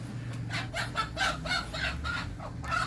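Several chickens clucking inside a village coop in rural Nepal, a close, steady run of short repeated clucks and squawks over a low background hum.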